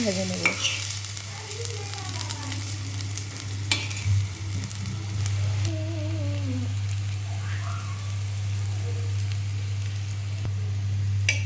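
Mustard-flower fritters dipped in rice-flour batter fry in hot oil, giving a continuous soft sizzle and crackle over a steady low electrical hum, with a few faint chirps and voice-like sounds in the background.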